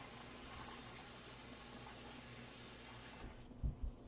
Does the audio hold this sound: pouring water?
yes